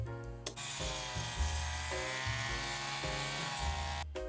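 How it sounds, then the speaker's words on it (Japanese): A small motorized trimmer buzzes steadily while cutting grass that will be dried and burned into ash for natural farming, a close, continuous whine with slight shifts in pitch. "まず草を刈ります"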